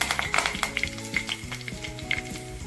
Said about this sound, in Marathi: बघा किती छान असं तडतडलेलं हे होतं